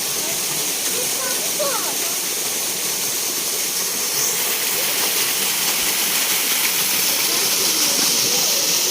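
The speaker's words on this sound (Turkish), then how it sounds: "Dokuzuncu şelale diyor. Kaç tane şelale var acaba?" Tatlıca falls at Erfelek in Sinop, Turkey, gives a steady, loud broadband roar of rushing water, unbroken for the whole stretch, with faint voices mixed in beneath it.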